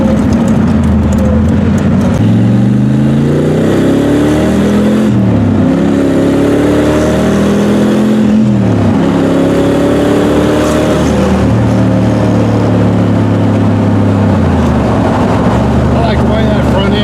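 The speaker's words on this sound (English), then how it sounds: "I love those side pipes. They sound awesome." A 1969 Corvette Stingray's side-pipe exhaust is revved repeatedly, each loud, close blip sweeping up in pitch and falling back in rising and falling waves over a constant engine drone.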